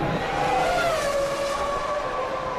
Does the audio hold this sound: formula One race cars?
yes